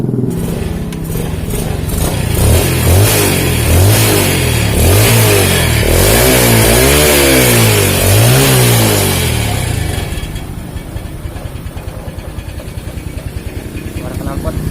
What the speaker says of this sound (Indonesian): Suara knalpot.